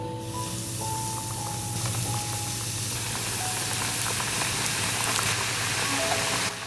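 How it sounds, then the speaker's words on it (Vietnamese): Battered chicken pieces deep-fry in hot oil in a pan over medium heat, giving a steady, loud, close sizzle and crackle that runs throughout, with no speech. "căn cho đến khi dầu sôi thì thả từng miếng gà vào chiên nhé"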